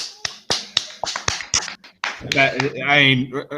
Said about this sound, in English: That deserves a golf clap too.